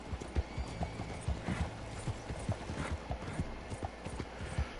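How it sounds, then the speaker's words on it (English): A horse in the Red Dead Redemption 2 video game clip-clops at a steady trot, rhythmic hoofbeats close and clear, joined by a whinny. Faint game sounds sit underneath, with no talking. "I pressed the button to get on my horse"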